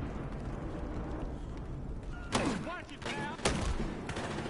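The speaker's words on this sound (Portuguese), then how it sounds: "Dois tiros, mano." Gunfire in the video game Battlefield Hardline: two sharp revolver shots about a second apart, each with a short ringing tail, over a constant background wash of game ambience and effects.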